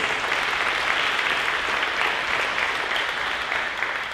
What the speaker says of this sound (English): Let's give our teachers and students a big round of applause, please.